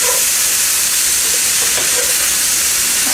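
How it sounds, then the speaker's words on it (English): Sausage frying in a pan for squirrel gravy gives a loud, steady sizzle and hiss, close up and unbroken, with no talking over it. "the sausage has been cooking for maybe 3 or 4 minutes, not very long at all"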